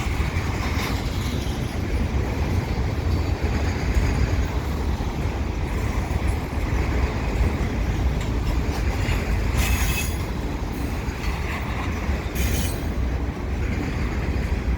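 A CP freight train with one locomotive rolls past close by, a continuous loud rumble of wheels on rails with occasional high metallic squeals, no one speaking.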